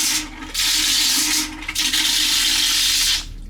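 A vacuum toilet in a Celebrity Summit cruise ship cabin flushes with two loud, harsh rushing whooshes, each lasting over a second, heard up close and alone.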